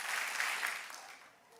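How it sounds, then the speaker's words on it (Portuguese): A church audience claps together, a short burst of crowd applause that sounds a little distant and thins out quickly toward the end. "bate 3 palmas"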